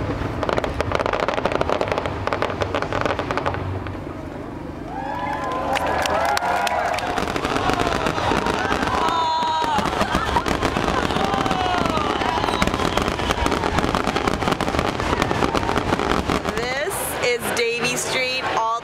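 A fireworks finale over English Bay during the Celebration of Light: dense, rapid crackling and popping bursts fill the air continuously, with a crowd murmuring and people talking nearby under the blasts.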